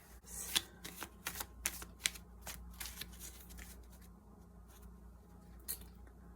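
Cards from a Candyland board game deck being handled and drawn, a quick flurry of crisp papery flicks and snaps up close, then quieter rustling.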